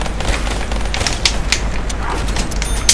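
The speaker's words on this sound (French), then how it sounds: "Dans les premières manches, il faut juste 2 rafales pour le zombie" Rapid bursts of automatic gunfire ring out while shooting zombies in a video game, several sharp volleys crackling over a low steady hum with no talking.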